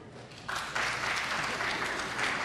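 Parents in the audience at a dairy festival pageant clap their hands, a dense smattering of applause that swells after a half second and continues steadily throughout.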